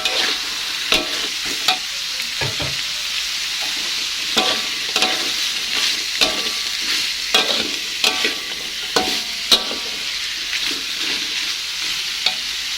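Green beans being stirred into frying ground beef in a pan, a constant sizzle broken by a regular series of scraping stirs roughly every second, close and loud, with no talk.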